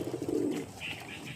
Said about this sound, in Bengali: এই দেখুন ধরেন এই একটা পায়রা আছে